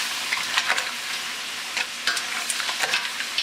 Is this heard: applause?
no